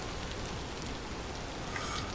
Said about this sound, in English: I wish this rain would go away